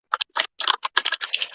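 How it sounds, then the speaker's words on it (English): Quick bursts of typing on a computer keyboard, a rapid irregular patter of key clicks heard up close for a brief moment. "Typing away."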